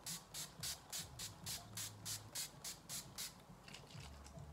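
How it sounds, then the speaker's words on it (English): Maybelline Dream Satin Mist setting spray is pumped onto a face in a quick run of about a dozen short, even hissing spritzes. The bursts are close and fairly soft, and each one is followed by a tiny pause. "Final step is the Dream Satin Mist from Maybelline."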